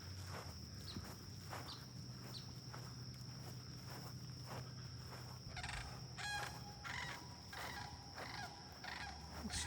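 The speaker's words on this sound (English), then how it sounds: "It's still squawking down there." A bird squawks outdoors in Florida, its calls coming in short bursts in the middle distance over a buzz of insects, with crunching footsteps nearby.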